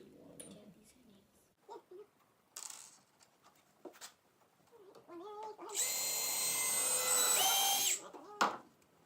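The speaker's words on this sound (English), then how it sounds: "I'm gonna grab your drill and pre-drill it." A power drill whirs steadily for about two seconds at close range, pre-drilling wood for a squirrel feeder, with brief talk and small handling noises before and after.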